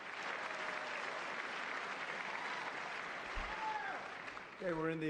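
Sustained applause from lawmakers in the chamber at the State of the Union, a steady broadband wash of clapping throughout, with a voice briefly speaking over it near the end.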